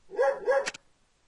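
A cartoonish dog in the Criminal Case video game gives two quick, clear barks in a row, followed by a short burst of noise, with nothing else around them.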